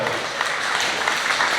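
Audience applause at a Spokane comedy club, a brief, dense burst of clapping from the crowd.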